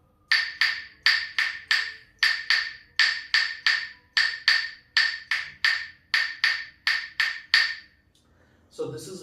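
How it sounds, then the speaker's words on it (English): Crisp wooden clicks from struck claves lay out a repeating 2-3 clave rhythm, close and solo, stopping near the end before a brief faint sound. "The 2-3 clave sounds like this."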